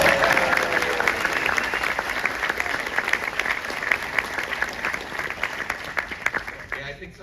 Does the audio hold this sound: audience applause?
yes